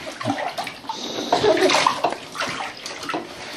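A child splashes water in a home bathtub, giving a continuous close sloshing and slapping of water with bursts of louder splashes and no clear speech.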